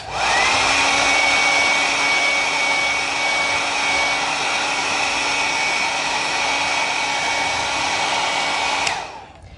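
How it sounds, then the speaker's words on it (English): A hair dryer blows steadily at close range onto a vintage ceramic mold, a loud continuous whir with a faint whine that holds for about nine seconds before cutting off abruptly near the end. "I'm going to use the hairdryer again because it does cool off pretty quickly"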